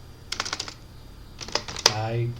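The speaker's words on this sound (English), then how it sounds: "I'm going to type sudo npm I" Keys on a computer keyboard tapped in two quick clusters of clicks, close and distinct, followed by a louder key press and a faint hum as a voice speaks.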